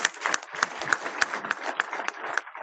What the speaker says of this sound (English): Let us clap for our chairman.